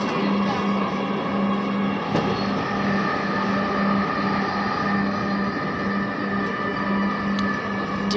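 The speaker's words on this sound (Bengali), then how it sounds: "ট্রেনে করে আগারগাঁও যাচ্ছে ট্রেনে করে" Steady rumble and hum of a metro train running near Kazipara station, a constant drone with a faint tonal whine and occasional clicks, continuous and fairly loud throughout.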